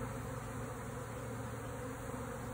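Honey bees buzz steadily at close range while being installed into a hive, a continuous dense hum with no voices.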